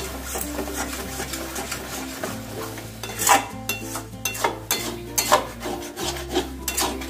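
Salt being stirred into a fish mixture in a pan, close scraping and rubbing strokes of a spatula in an uneven rhythm over a low steady hum, no talking.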